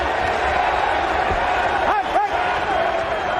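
A vocal boxing crowd at the Meadowlands roars steadily through a WBA middleweight title fight, a dense continuous wall of cheering and shouts with a few whistles rising above it.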